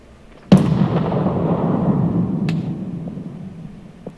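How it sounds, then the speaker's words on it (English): A grenade detonates in a multiplayer shooter with one sharp, loud blast, followed by a long rumbling tail that slowly fades over several seconds, with a few faint distant pops after it. "Another grenade goes to clear."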